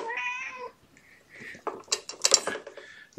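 Kittens give a clear drawn-out meow at the start, then a scatter of clicks, rattles and small scuffling noises from the animals moving about nearby.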